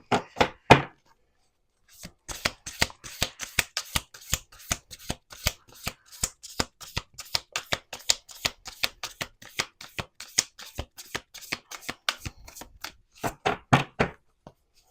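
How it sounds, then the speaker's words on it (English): Tarot cards riffled and shuffled by hand, a dense run of crisp, rapid flutters and slaps close up, with brief pauses between bursts and a short burst at the start and end. "let's do 2 more shuffles"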